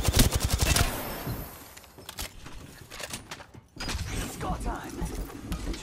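Video game gunfire opens with a rapid burst of automatic shots, then gives way to scattered shots and mechanical clatter while a player talks over the action.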